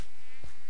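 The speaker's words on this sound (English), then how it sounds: "I hear those blasted mosquitoes again" Mosquitoes buzzing in a modded Minecraft FTB game world, a short thin whining drone heard up close and alone for under a second.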